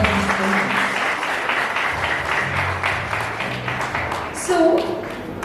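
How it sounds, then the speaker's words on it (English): An audience applauds student leaders at a school investiture ceremony, a dense wash of clapping from a large crowd, steady throughout, with a voice speaking over it. "Can we have a loud round of applause for these students?"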